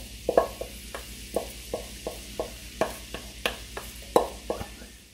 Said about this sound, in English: Then we're going to start cooking our onions.